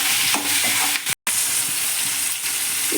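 Tomatoes and onions frying in a pan as the base of a spicy silver belly fish curry, an even sizzle with stirring clatter, cut by a very short silent gap in the middle.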